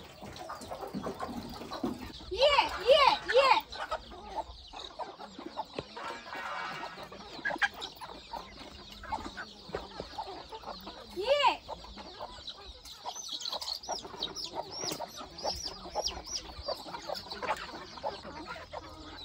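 Desi chickens cluck at a poultry farm shed built for laying hens, with a few louder squawking bursts among steady nearby clucking and faint background voices.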